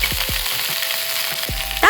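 Diced carrots and potatoes with fried fish sauté in a pan, a loud continuous sizzle with a few low thuds from stirring, close up and without talk.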